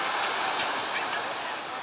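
Strong sea waves breaking at Cleopatra Beach in Alanya, a steady broadband roar of surf that stays loud and unbroken throughout, with no voices over it.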